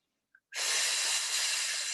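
A strong, sustained exhale during a Pilates pull-up movement, a broad airy breath starting abruptly after a short faint intake and holding loud and steady to the end, close to the mic with no talking.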